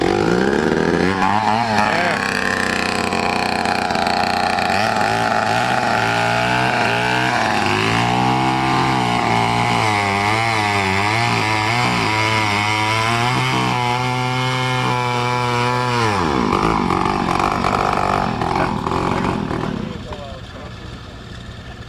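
An old, heavy chainsaw runs loud and close at an antique tractor show, its engine snarling and revving up and down before settling back, with people talking over it.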